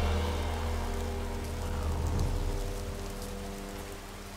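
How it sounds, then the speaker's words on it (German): Steady rain in the video game Gothic II, a dense, even hiss of falling drops with faint rumbling underneath, continuous and fairly quiet with no voices. "also diesen Regen finde ich sehr atmosphärisch, aber man sieht so schlecht, ne?"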